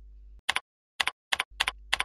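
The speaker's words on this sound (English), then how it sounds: "keep typing your letter" Short bursts of keyboard typing, a few quick clicks in each cluster separated by brief pauses, close and fairly quiet with a faint hum between.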